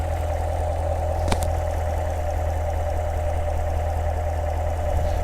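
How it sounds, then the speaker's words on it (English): A 2017 Chevrolet Corvette C7 2LT Z51 with a cold air intake idles smoothly, a steady, deep, even rumble heard up close with one brief click partway through and no speech. "Engine sounds healthy,"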